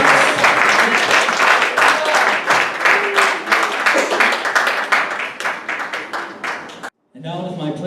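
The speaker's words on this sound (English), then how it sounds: "I'm gonna give it one more mighty, mighty hand clap of praise" Church congregation clapping hands in praise during a service, dense rhythmic clapping with voices and music mixed in, loud and sustained, breaking off briefly near the end before resuming with talk and music.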